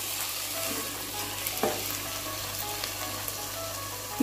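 Eggs frying in oil in a pan are turned over, giving a steady close sizzle throughout with a few brief scraping clicks as they are flipped.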